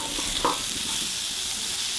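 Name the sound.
vegetables frying in a pan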